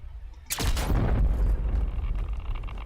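Hostile enemy in the sci-fi game The Signal From Tolva opening fire: a sudden loud blast followed by a dense, sustained roar of rapid gunfire and booms, close and continuous.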